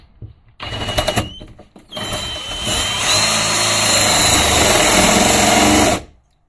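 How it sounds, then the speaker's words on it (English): A power drill whirs loudly in short bursts, then runs steadily for several seconds as it bores into wood indoors, before stopping abruptly. "Now we're going to start the drilling."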